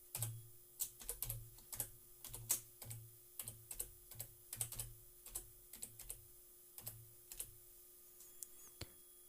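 Keys on a computer keyboard clatter in short irregular bursts of quick taps, fairly quiet and close, as a username and password are typed in a quiet room with no talking.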